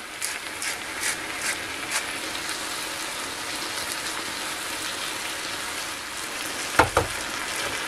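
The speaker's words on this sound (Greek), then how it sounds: "Αφήνουμε να τηγανιστούν καλά, να φύγει και η υγρασία πολύ και θα συνεχίσουμε." Seasoned eggs frying in a pan, a steady close-up sizzle with faint crackles and a few soft clicks, followed by a brief clatter near the end.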